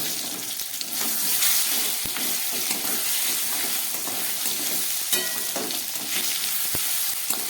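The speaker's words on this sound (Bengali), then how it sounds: "এবার আমি দিচ্ছি কয়েক টুকরো কাঁচকলা।" Pieces of green banana fry in a well-cooked spice paste for a snakehead fish curry, giving a steady, close hiss and crackle with occasional sharp pops and no talking.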